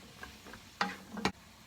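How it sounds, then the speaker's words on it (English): Onion, carrot and celery being sautéed in a pot, a soft sizzle punctuated by a few quick stirring scrapes, two louder clattering strokes near the end, close and brief. "Let's saute it a little bit."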